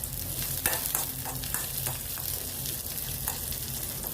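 Cashews, ginger, green chillies and roasted gram sauté in a pan, with a steady close sizzle and soft stirring scrapes throughout and no talk.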